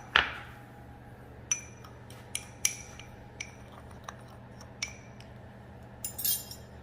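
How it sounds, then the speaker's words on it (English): Ground cinnamon being stirred into sugar in a bowl, with a series of light, sharp clinks of a spoon against the bowl, fairly quiet and spaced irregularly. "A teaspoon of ground cinnamon, and give it a mix."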